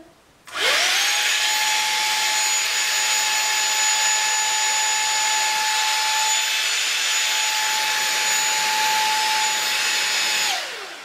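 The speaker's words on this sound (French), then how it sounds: "Donc là on va tester rapidement le côté sèche-cheveux." A knockoff Dyson hair dryer switches on with a rising whine, blows with a steady loud whirring hum for about ten seconds, then winds down and cuts off.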